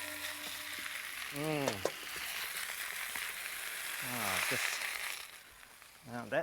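Vegetables fry and sizzle in a hot pan with a soft, steady hiss while they are tossed. Someone talks over the cooking at intervals.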